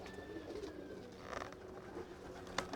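Soft, low pigeon coos murmur in the background, faint and intermittent, with an occasional rustle or click nearby.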